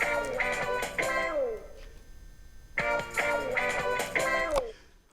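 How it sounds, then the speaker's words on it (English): A game show stinger sound effect plays from a pad button on a TASCAM MiNiSTUDIO audio interface: a bright, brassy musical phrase with descending notes, repeated twice with a short pause between. "I currently have a game show stinger already set up,"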